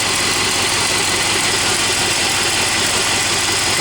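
A Plymouth 318 V8 idles steadily with a manifold gasket leak, giving a continuous mid-to-low engine rumble with broad hiss and vibration, loud and close with no talk throughout.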